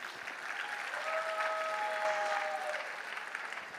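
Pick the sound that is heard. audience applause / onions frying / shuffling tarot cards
audience applause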